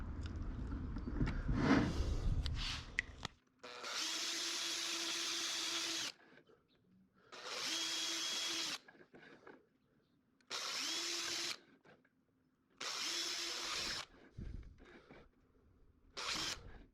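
A power drill bores holes around a ring for a muskie lure storage bucket. It runs in five steady whining bursts of about two seconds each, separated by short quiet gaps, after some close handling noise at the start.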